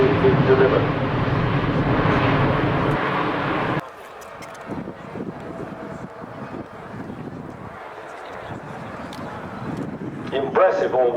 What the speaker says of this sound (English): You don't normally get that close to an airliner.